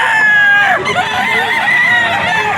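Kanawain gamefowl rooster at the Bocaue pet market in Bulacan crowing loudly and close, one long drawn-out crow filling the moment amid market background.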